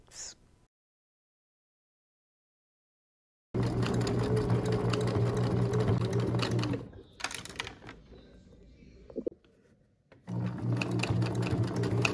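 Sewing machine running an overcast finishing stitch on stretch fabric with a size 11 needle: steady rapid mechanical chatter in two long bursts separated by silence and a quieter pause with small clicks, close and loud.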